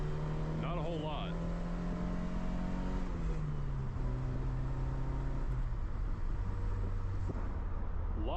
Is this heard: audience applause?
no